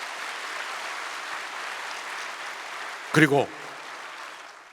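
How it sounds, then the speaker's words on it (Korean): A church congregation gives a pastor a steady round of applause that fills the room at moderate loudness, with a voice speaking briefly over it partway through. "목사님을 위해서 박수 한번 크게 부탁합니다"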